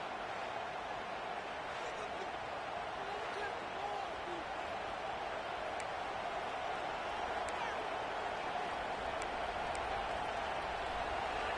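A stadium crowd in the NCAA 26 college football video game cheers in a steady, dense roar that holds at one level throughout, with faint commentary voices under it.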